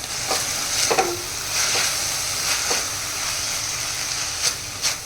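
Red chili sauce and soy sauce being stirred in a hot pan for veg fried rice make a loud, continuous sizzle and hiss, with repeated scraping strokes of a spatula every second or so.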